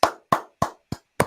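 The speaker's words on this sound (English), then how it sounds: "Give a round of applause for Shawn." A few scattered hand claps for Shawn at a live hypnosis show, five separate sharp claps spaced about a third of a second apart, close and fairly loud with no talk over them.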